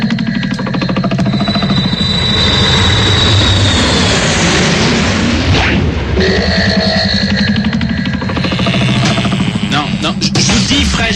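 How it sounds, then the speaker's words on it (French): An airplane engine warms up loudly and close, a harsh roaring whine with propeller-like pulsing that swells and shifts pitch throughout, dense and continuous. "Latex, tu fais chauffer l'avion, s'il te plaît?"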